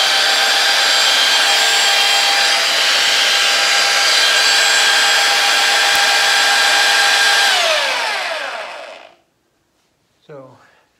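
A cheap belt sander runs off an old-school portable emergency power supply, roaring loud and steady with a whining motor tone for about eight seconds, then spinning down to silence before a short burst of speech.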